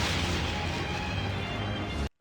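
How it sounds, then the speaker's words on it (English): Cannon fire from an animated series rumbles as a dense, sustained blast that fills the sound for about two seconds and then cuts off abruptly. "He turned our own cannons on us."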